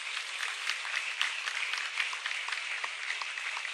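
Steady applause from a crowd at a Fiocruz presidential inauguration ceremony, dense clapping sustained throughout with no pauses, fairly distant and even in loudness.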